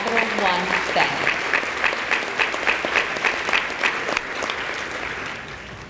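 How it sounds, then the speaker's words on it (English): Audience applause at a business awards ceremony honoring influential women, steady sustained clapping from a large crowd, loud and continuous for several seconds before tapering slightly. "Please give a round of applause for Janet Olson"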